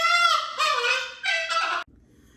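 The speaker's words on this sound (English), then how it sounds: "This is my cockatoo who likes to be very loud when I'm trying to record something." A pet cockatoo lets out loud, harsh, raspy screeches indoors, three grating bursts in quick succession close by, then goes silent.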